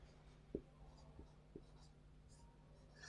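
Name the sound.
writing on a board during a geometry class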